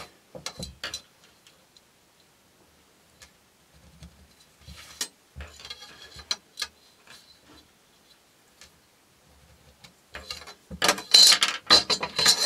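Scissors cutting along a marked line through paper during papercraft, irregular close snips and crisp paper rustles that start sparse and quiet, then grow denser and louder toward the end, with no talking.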